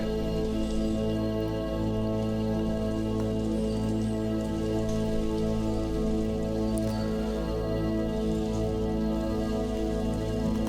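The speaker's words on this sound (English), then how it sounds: "every time it goes above that, the rain sound goes away" Steady rain pours without pause, a dense even patter on a surface with a constant low rushing under it.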